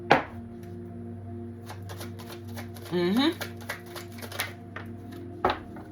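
Rapid papery riffling of tarot cards being shuffled in short bursts, close by, while a person talks over it.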